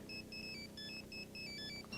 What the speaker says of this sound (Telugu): ఫోన్ రింగ్ అవుతున్నా ఫోన్ తీయడు